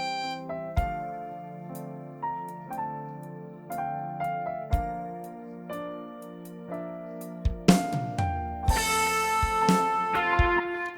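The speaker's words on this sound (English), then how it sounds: "let me just quickly show you a user song that I just created" A user song played back from a Yamaha DGX-650 digital keyboard, with piano-like melodic notes and chords, then denser layered parts and percussive hits toward the end, with no voices.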